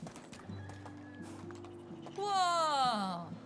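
Farm horses in a farming video game, with hooves clip-clopping and then a loud, close whinny that rises and falls in pitch, layered over soft ambient game sounds.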